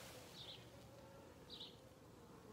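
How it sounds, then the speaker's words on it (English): Honey bees hum faintly around a hive on a Mojave Desert farm, with two brief closer buzzes as individual bees fly past over a quiet low background. "Some more of my bees."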